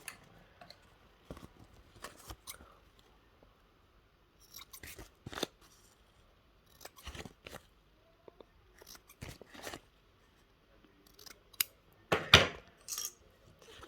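Scissors snipping the corners off a sewn fabric piece to trim the seam allowance, a series of short, crisp cuts in irregular bursts with quiet pauses between, close and fairly soft, with no talking.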